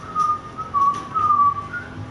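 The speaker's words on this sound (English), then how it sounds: "Don't like whistling." A person whistles a wavering, tuneless melody in short phrases, close and fairly loud, with a low background hum and no speech.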